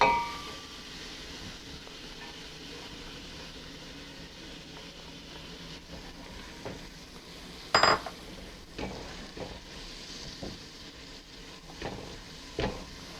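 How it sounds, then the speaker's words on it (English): Onions cooking on medium heat in melted butter in a pot for split pea soup, a soft low sizzle broken by a few sharp utensil clinks and stirring scrapes, close by; no talk. "So now we are going to cook the onions on medium heat into the butter"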